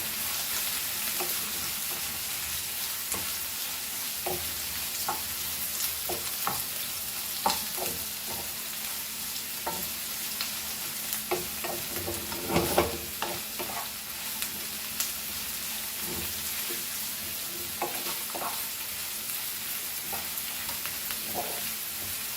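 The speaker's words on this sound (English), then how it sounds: "Fry the onions very nicely." Onions frying in a pan for chicken kheema: a continuous sizzle with intermittent scraping and stirring knocks from a spatula, steady and fairly close throughout, with no talking.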